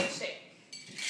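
A cocktail shaker holding scotch and ice is shaken briefly, giving a quick faint metallic rattle and clink of ice.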